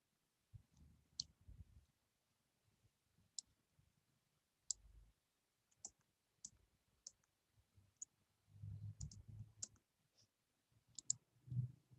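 Scattered, quiet keyboard clicks tap irregularly at close range, with a few soft bumps between keystrokes.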